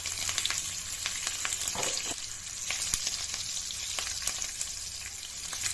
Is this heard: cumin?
yes